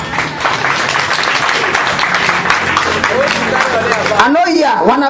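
Audience applause at a show, a sustained crowd clap with a voice talking over it and a rising vocal sound at the end.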